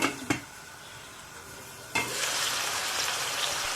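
Steady sizzling and hissing of fresh green beans sautéing in a pot over low heat, with a couple of clinks at the start, close and continuous.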